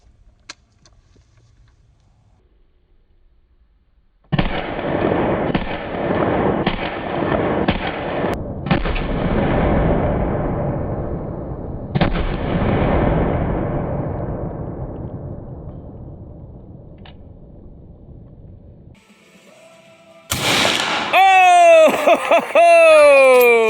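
Loud gunshots from friends out shooting guns boom in a rapid string of sharp cracks with long decaying echoes, then fade out, followed by a burst of close, loud, pitched noise.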